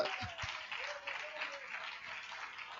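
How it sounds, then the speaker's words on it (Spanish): Church congregation clapping during a Spanish-language sermon, a soft wash of applause heard at a distance while voices carry over it. "apláudala en esta mañana"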